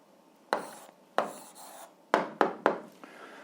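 A pen or chalk writes an answer to a maths exercise in short scratchy strokes, five separate bursts with quick taps between them, close and fairly quiet with no talking.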